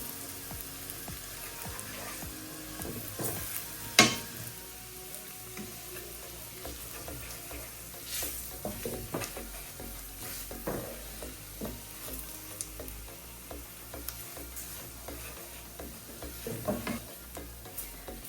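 Flour being stirred into a pan of sizzling food, a quiet continuous sizzle with scattered scraping and clicking taps from the utensil, close and faint, with no voices.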